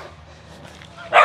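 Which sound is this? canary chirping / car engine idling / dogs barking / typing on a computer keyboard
dogs barking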